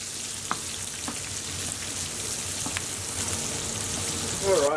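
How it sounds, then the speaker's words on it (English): French shallots saute lightly in a pan with a soft, steady sizzle, faint and close, broken by a few small ticks, and a brief voice enters at the very end. "we're going to add our French shallots straight in. And we just want to very lightly saute these"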